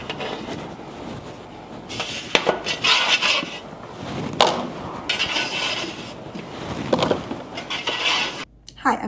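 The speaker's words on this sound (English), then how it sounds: "We'll give it a stir and pop that into the oven for roasting." Cherry tomatoes with olive oil are stirred in a metal pan, giving repeated clanks and scraping rattles up close, with someone speaking over them.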